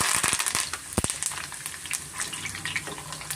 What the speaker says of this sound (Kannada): ಸ್ವಲ್ಪ ಬೆಳ್ಳುಳ್ಳಿನ ನಾನು ಫ್ರೈ ಮಾಡ್ಕೊತೀನಿ